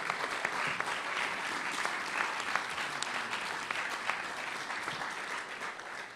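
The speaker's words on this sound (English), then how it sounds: "please now give them your round of applause" Guests at a National Press Club luncheon applaud steadily, a sustained, even roar of many hands clapping at a moderate distance, without talk.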